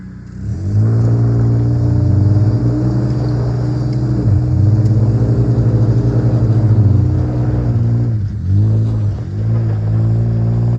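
A pickup truck engine in 4 low revs hard and steadily while towing another truck, a loud, sustained mid-range drone that swells and dips in pitch with throttle changes, close and continuous throughout.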